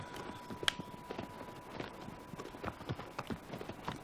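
Horse hooves in Shadow of the Colossus Remaster on PS4, a steady walking clip-clop of soft hoofbeats riding out of a valley, moderately close under a faint constant tone.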